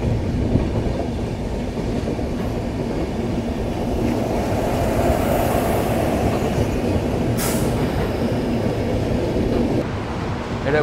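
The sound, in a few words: 12261 Mumbai CSMT-Howrah AC Duronto Express train running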